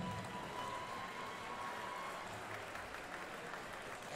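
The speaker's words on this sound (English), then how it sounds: "give both of these guys a big round of applause for going the distance" A crowd at a fight event applauds both fighters after a bout that went the distance, with sustained, even clapping heard from a distance at a fairly low level.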